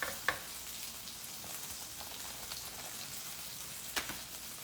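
A cheddar crusted quesadilla fries in a pan with a soft, steady sizzle, faint and close, broken by a couple of sharper crackles and pops.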